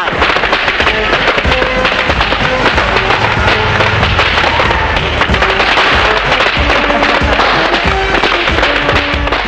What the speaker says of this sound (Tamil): ஏய் பட்டாசு முக்கியம்டா.